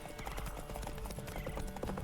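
Horse hooves in the video game Witcher 3, rapid steady clip-clop of a riding horse with a faint whinny, continuous and moderately loud over game ambience.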